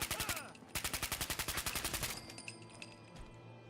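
Gunfire in Fallout 4, with rapid bursts of automatic shots in quick succession, loud and close, then fading into quieter game ambience and clinks.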